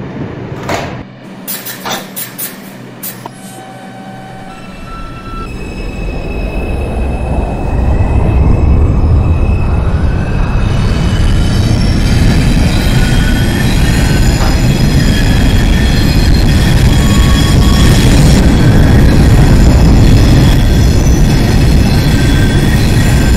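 A New York subway 2 train pulls out of a station, beginning with door clunks and chimes, then a rising motor whine and growing rumble of wheels that swells into a loud steady roar heard from inside the car.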